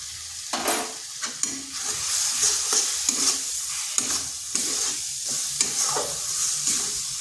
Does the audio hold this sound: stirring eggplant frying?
yes